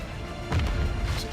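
A grenade goes off in the video game DMZ, a heavy booming blast rising out of steady game ambience and rumbling briefly before fading.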